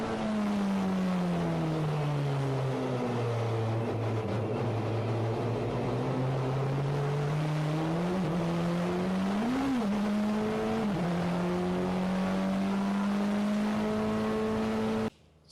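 A 1998 Peugeot 406 Super Touring race car lapping Donington Park circuit, its loud engine whining steadily near the microphone, with the pitch dropping and rising through downshifts and a hairpin before cutting off at the end.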